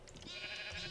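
A single sheep bleats in Minecraft, one brief quavering bleat against a steady background hum.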